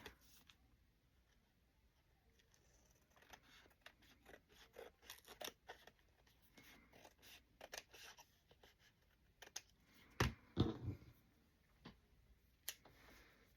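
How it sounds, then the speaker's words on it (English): Scissors trim paper for a book-page belly band in a series of quick, quiet snips and clicks. The cuts come in scattered bursts, with a louder cluster of sharp cuts near the end. "I'm going to have to trim this bit up here."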